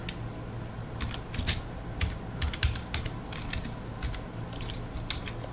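Fingers tap out a command on a computer keyboard in quick, irregular clusters of light clicks close by, over a low steady hum.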